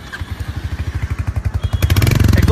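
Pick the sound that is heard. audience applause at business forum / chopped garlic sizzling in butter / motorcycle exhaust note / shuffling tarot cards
motorcycle exhaust note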